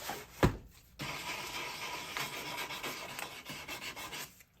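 Sandpaper rubs back and forth along the edges of a wooden cutting board, a close, steady rasping scrape after a short bump at the start, with no talking.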